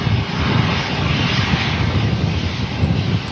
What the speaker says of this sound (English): Very nice looking Eurowings Airbus coming in.